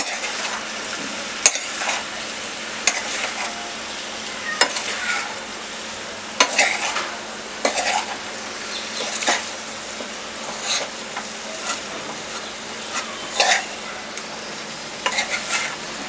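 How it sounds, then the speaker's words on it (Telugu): Spiced sweet pumpkin curry being stirred in a pan, a steady soft sizzle with repeated scraping strokes of a spoon at a slow, irregular rhythm, close and moderately loud, with no talk. "కారం అంతా కలిపేలాగా మళ్ళీ ఒకసారి మొత్తం కలుపుకోవాలి"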